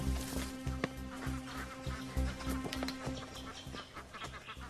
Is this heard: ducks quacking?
yes